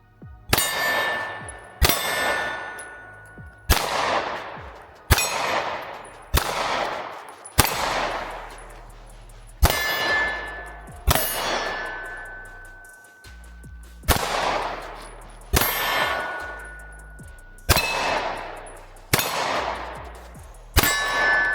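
Pistol shots striking steel target plates, each firing followed by a bright ringing clang that decays; roughly a dozen evenly spaced hits, loud and clear, with no talking.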